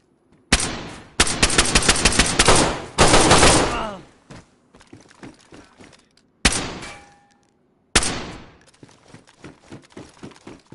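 Automatic-weapon fire in the DayZ video game: several loud close bursts of rapid shots in the opening seconds, then two more sharp bursts later, each trailing off into echoing tails and scattered quieter clatter between.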